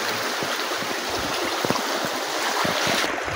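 Knee-deep stream water rushes in a steady broadband wash, heard close up and mixed with wind buffeting the microphone.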